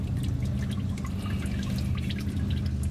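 Hot engine oil drains from a 2001 Dodge Ram 1500 during an oil change, a steady close liquid trickle with scattered drips over a constant low rumble.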